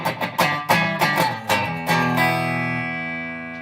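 Stratocaster electric guitar played clean with the distortion pedal off, a quick run of plucked notes and chords ending in a ringing sustained chord that slowly decays.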